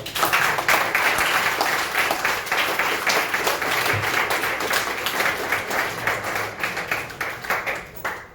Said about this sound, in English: Have another round of applause.